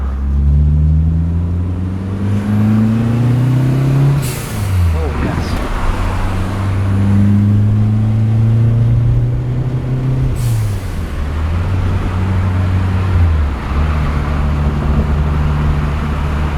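A Mk4 Ford Escort RS Turbo drives along the road, heard from inside the car: a loud, steady engine drone climbs in pitch through each gear and drops at every change, with occasional voices over it.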